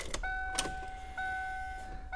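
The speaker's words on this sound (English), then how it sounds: "Make sure windows go up and down. They do." Power windows on a 1994–2004 Ford Mustang SN95 whir up and down with a steady electric motor whine, several short runs with brief pauses between them, close by and alone.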